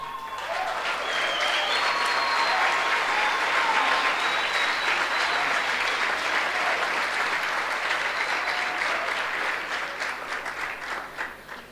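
Loud, sustained applause from a church audience for a preacher, dense clapping rising quickly and holding steady for several seconds before tapering slightly at the end.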